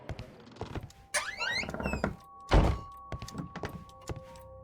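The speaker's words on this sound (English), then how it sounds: "Mr. Butler's key matches the lock perfectly." A key turns in a lock in Sherlock Holmes Crimes and Punishments, making a sequence of metallic clicks and clunks, a solid thunk midway, and then a faint ringing tone.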